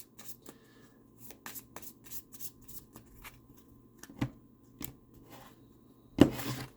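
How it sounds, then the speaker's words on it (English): Tarot cards are shuffled and pulled by hand: soft riffling and sliding card sounds come in short irregular bursts, ending with a sharper snap as a card is drawn, close and quiet with no talk. "We're going to pull a couple cards here for your overall energy."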